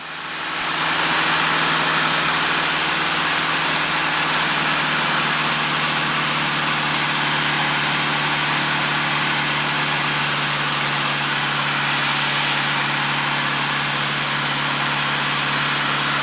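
A Cessna 152 in flight: a loud, unbroken drone of the propeller engine heard from inside the cabin, steady with no change in pitch, a broad roar with no talk over it.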